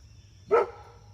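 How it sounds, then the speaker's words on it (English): Single sharp bark from a dog named Pearl, close and loud, standing out briefly against a quiet indoor background with a faint steady hum. "don't come over here and bark"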